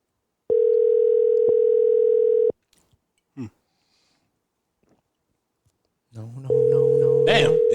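A telephone ringback tone heard during an outgoing call: a long steady buzzing ring, a pause with faint breathing and a sniff, then the ring again starting under a brief voice at the end.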